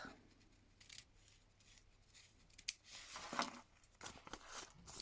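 Scissors snipping paper during a shabby-chic embellishment craft project, a few close, quiet cuts with rustling and crinkling between them, no talking.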